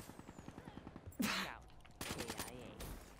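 Automatic gunfire in the video game Black Ops 3 rattles in a rapid run of evenly spaced shots, then two louder bursts, heard over quiet game ambience.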